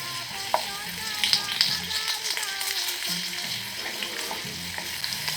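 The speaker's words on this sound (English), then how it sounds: "The potatoes will fry for around few seconds. You can flip the potatoes over and get them brown on both the sides." Potatoes fry in a pan, giving a bright, continuous sizzle with crackles and small pops, up close and steady throughout, with occasional stirring sounds.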